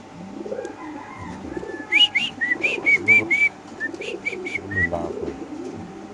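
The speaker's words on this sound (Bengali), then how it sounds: "শ্যাডের একটা মাদি কবুতর" A female racing pigeon coos nearby in a short run of soft, rounded, repeated calls at a pigeon farm, with quieter background noise around it.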